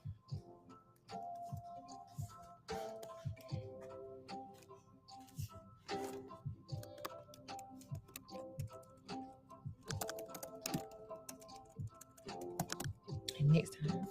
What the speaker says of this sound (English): And we're gonna get to typing.